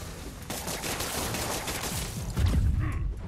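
Gunfire from Spider-Man PS4 (Turf Wars DLC) gameplay: dense rapid volleys of shots fill the scene, swelling louder toward the end with heavy low booms.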